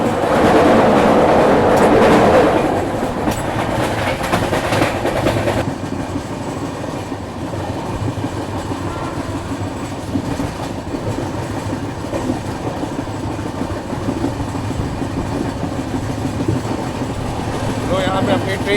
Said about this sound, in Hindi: फ्लैट व्हील साउंड आ रहा है मजेदार।